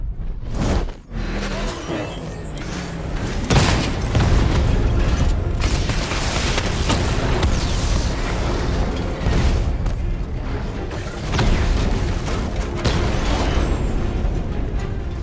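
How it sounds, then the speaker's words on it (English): Heavy 60mm tank cannon fire in Batman: Arkham Knight, with repeated booming blasts and mechanical rumble that keep up densely and loudly throughout, layered over a busy combat soundscape. "Your 60mm cannon will penetrate these heavily armored units, but it'll take a few direct hits to destroy them."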